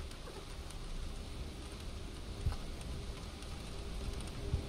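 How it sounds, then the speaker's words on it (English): Rain in the Ten Bells horror pub game, a soft, even patter and hiss filling the background with a couple of faint low thumps, fairly quiet and steady. "It's kind of relaxing with the rain in the background of the game."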